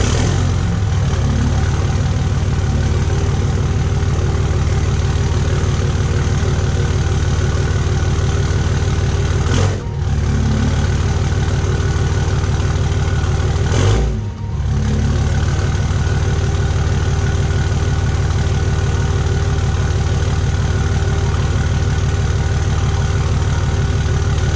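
Loud, rumbling 5.9 Cummins diesel truck engine with a 5-inch straight-pipe exhaust idling steadily with a deep exhaust drone, close by, briefly dipping twice before settling back.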